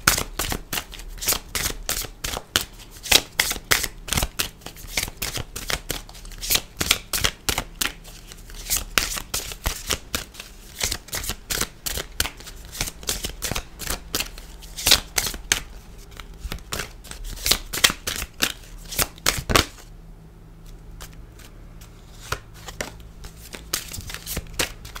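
Oracle cards shuffled by hand in a steady run of sharp riffling flicks and slaps, close and crisp, continuing for about twenty seconds before stopping into near silence.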